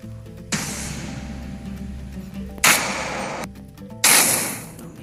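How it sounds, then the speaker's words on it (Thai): Three loud booming blasts go off in sequence, each a sudden burst that rumbles and fades, separated by brief quiet gaps. "ให้เข้ากับบรรยากาศเสียงระเบิด"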